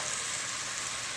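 Fried potatoes and elephant foot yam go into sizzling masala in a pan, producing a brief, soft, steady frying hiss close by, with no talking.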